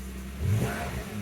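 A Jaguar X-Type car engine idles with a brief rise in revs midway before settling again, heard close and alone.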